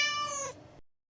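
A cartoon kitten gives a single clear, high, drawn-out meow that fades away, with no speech.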